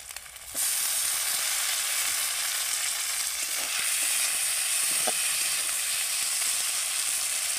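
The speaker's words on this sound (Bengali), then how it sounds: "আদা রসুনটা পেঁয়াজের সাথে এরকমভাবে ভেজে নেব। পেঁয়াজ আদা রসুন আমি ভেজে নিয়েছি। এবার আমি দিয়ে দেব টমেটো কুচি" Onion, ginger and garlic sizzle steadily in a hot pan after a brief quieter start, with faint stirring clicks as chopped tomato goes in.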